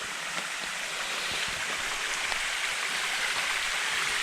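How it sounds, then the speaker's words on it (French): Waterfall in a Vosges forest, heard from above the falls as a steady, loud broadband rush of falling water with no voices. "nous sommes au-dessus de la cascade"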